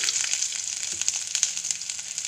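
Onions and curry leaves frying in a couple of spoons of oil with mustard seeds and cumin, a steady close sizzle with faint crackles and pops, no voices.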